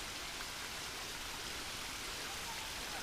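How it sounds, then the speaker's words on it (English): Small creek of runoff from Little Falls near Kakabeka Falls, flowing as a steady, broadband rushing wash that stays even and close throughout with no distinct events. "You see a little creek here."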